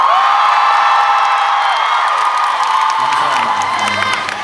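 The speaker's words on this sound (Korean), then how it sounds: "빨리 소리 질러주세요" A large concert audience at a Phantom Singer gala concert in Incheon cheers and shouts loudly throughout, a thick continuous roar of voices with high whoops, fading slightly at the end.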